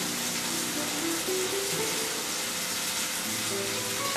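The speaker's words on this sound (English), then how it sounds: "the oil is very hot, we are just going to put them there and fry them" Steady, dense sizzling of food frying in hot oil, a continuous crackling hiss close by with faint clinks underneath.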